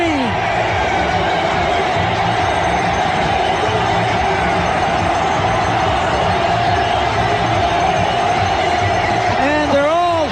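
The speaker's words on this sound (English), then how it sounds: "And they're all standing and admiring and applauding." A baseball stadium crowd roars and applauds in a loud, sustained wash of cheering that runs throughout, with a broadcaster talking over it.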